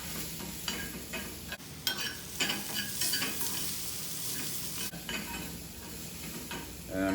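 Shallots and garlic sizzle in a pan for farfalle pasta while a small spoon stirs them, giving a dense, continuous frying hiss with light scraping and clinking, up close and alone without speech.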